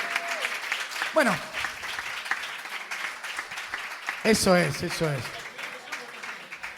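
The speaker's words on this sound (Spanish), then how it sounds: "Fuerte el aplauso" Audience applause after a poetry reading, a steady clapping bed that swells and fades while people talk and laugh over it.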